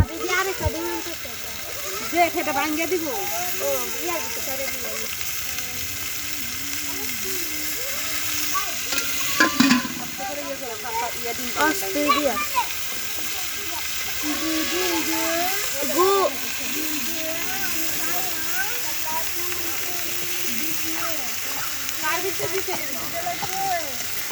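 Spices frying in oil for egg bhuna give a constant hissing sizzle with occasional splatters and stirring clatter, close by, while a person talks over it through most of the stretch.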